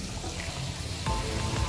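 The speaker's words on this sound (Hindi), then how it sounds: "अभी हम ये पानी भर रहे" Tap water runs into a container to fill pots for aquarium fish, a steady close rush that grows a little fuller toward the end, with no voices.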